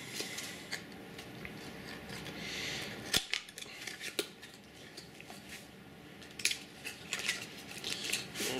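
A cardboard box holding a metallic black New Nintendo 3DS XL is opened up close, with steady rustling and scraping broken by several sharp clicks and snaps.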